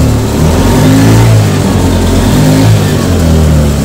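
A Honda Beat motorcycle engine running with its EOT sensor unplugged, revving steadily and loudly up close with a continuous droning hum across the whole stretch.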